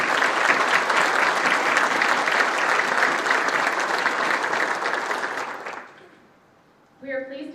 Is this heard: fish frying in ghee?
no